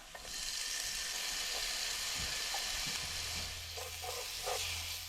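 Garlic sizzles steadily in a hot pan for a cheap chicken meal, a continuous close frying hiss with a few soft stirring clinks and no talking.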